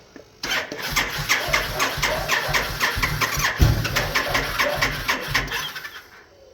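A motorcycle starter with a dead battery cranks rapidly and repeatedly for several seconds, a loud rhythmic churning that never catches into a running engine.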